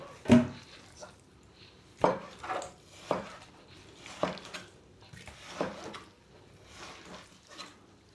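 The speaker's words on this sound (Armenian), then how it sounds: "Մենք միսը կտրատեցինք" A knife chopping beef into small pieces on a board: a series of sharp, close chops, single hits and quick doubles, spaced a second or so apart, with quiet gaps between.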